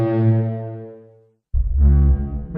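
A reconstructed Parasaurolophus dinosaur call: a deep, sustained air-horn-like blare with a rich, droning tone fades out, then after a short silence a second loud, resonant honk sounds.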